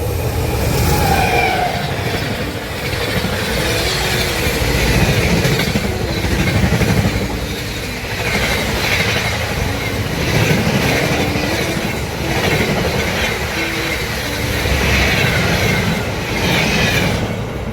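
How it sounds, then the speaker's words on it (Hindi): A passenger train rides the rails, heard from inside a carriage as a loud, steady rumble with rhythmic clickety-clack and occasional wheel squeal, no voices. "मैं बहुत लंबे टाइम के बाद फिर से ट्रेन में बैठ रहा था"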